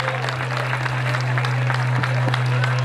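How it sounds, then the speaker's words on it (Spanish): A church congregation applauds steadily in a continuous wash of clapping and crowd noise, with a loud steady hum underneath and some voices mixed in. "Dele aplauso al Señor por ella."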